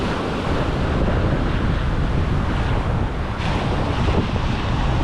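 A strong west wind buffets the microphone on a surf beach, a loud, dense, unbroken rumble and roar mixed with breaking waves.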